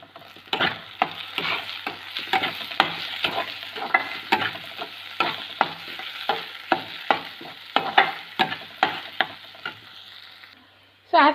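Onions frying in a pan with turmeric and red chili powder, a loud steady sizzle broken by a regular series of sharp scraping strokes from stirring, about one per second, with no talking.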